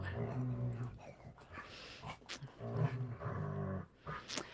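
A dog vocalizes close by in a run of whiny, moaning howls and grumbles, rising and falling over several seconds with short pauses between.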